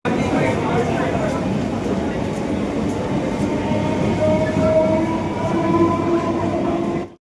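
A crowded passenger train running near Bally station, with a steady loud rumble and rattling wheels heard from inside the carriage, a faint squeal partway through, and people talking over it until it cuts off.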